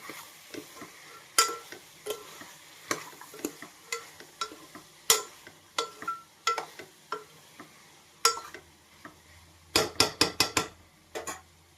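A spoon stirring a rajma mixed vegetable curry with tomato in a pan: repeated light scrapes and clinks against the metal at an irregular pace, then a quick burst of rapid taps near the end, all fairly quiet with no talking.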